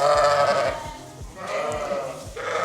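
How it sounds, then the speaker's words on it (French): Sheep on a mixed crop and livestock farm bleat in repeated overlapping calls, a loud burst at the start and again midway and at the end, with no talk over them. "C'est pour ça que t'aimes bien les moutons?"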